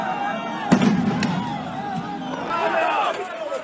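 Fireworks and a crowd during clashes at the Al Aqsa compound in Jerusalem, May 2021: one sharp, loud bang near the start cuts through continuous crowd noise and shouting voices that swell again toward the end.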